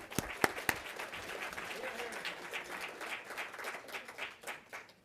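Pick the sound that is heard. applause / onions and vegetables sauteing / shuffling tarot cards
applause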